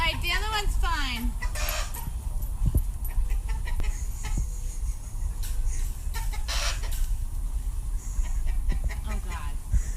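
Chickens cluck and squawk in agitated bursts while being chased, close by, with someone talking over the commotion and scattered rustling and thuds.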